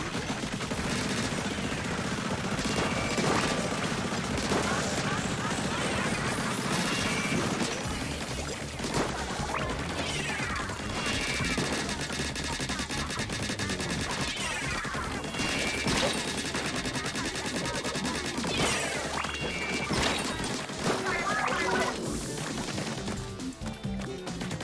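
Rapid bursts of Crab Tank fire from a Splatoon 3 match, loud and continuous with dense overlapping shots and impacts, layered over game music throughout.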